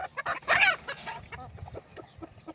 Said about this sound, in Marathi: आपला पहिला शाहरुख याला टक्कर द्यायला आणलाय आता हा गावरान कोंबडे याच्यामध्ये एक कडकनाथची कोंबडी